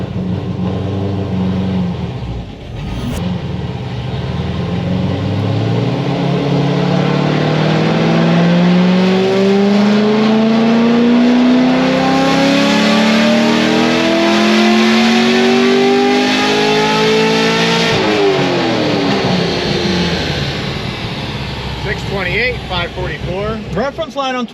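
An LS7 V8 with Stage 4 heads and cam roars through a dyno pull, climbing steadily in pitch to a loud peak before dropping off, with people talking nearby.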